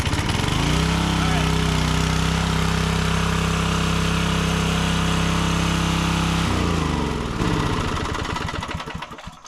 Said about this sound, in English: I'm just gonna give it full choke and then turn it on and see what that does, and hopefully it should fire up.